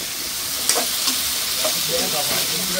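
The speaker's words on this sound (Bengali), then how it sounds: "এটা মাছ আছে তাহলে? এটা রান্না চলতেছে" Fish frying in a pan, a steady bright sizzle with occasional sharper pops and spatters, close by and continuous.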